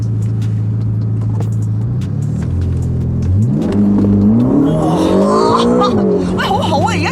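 A Ferrari Roma pulls away, its engine revving and rising in pitch as it accelerates, loud and close, with voices talking inside the car.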